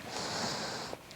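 A slow, drawn-out nasal inhale during a pilates core exercise, airy and close, lasting about a second, then a brief pause with a small sniff at the end.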